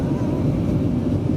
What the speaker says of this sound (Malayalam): വിമാനം കിഴക്കുദിശയിലാണ് പറക്കുന്നത്